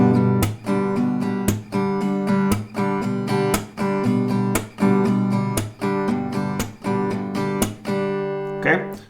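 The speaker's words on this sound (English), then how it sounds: "You can also replace that second and last down with a clap instead" Acoustic guitar strummed in a steady, even pattern, with sharp percussive claps standing in for some of the downstrokes, close and clear with no talking.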